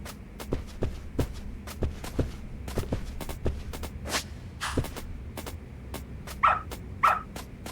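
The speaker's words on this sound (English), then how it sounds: "Good dog." A dog barks in the video game Lost Judgment, sharp isolated yips and barks scattered over a few seconds against footsteps and light shuffling, with two louder barks near the end.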